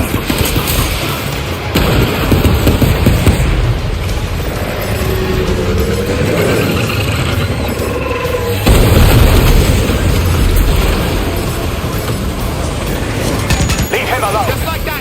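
The Magellan opens fire in the Death Stranding 2 video game: dense, continuous booming and bursts of heavy gunfire that roll on loudly throughout, with voices talking over the barrage.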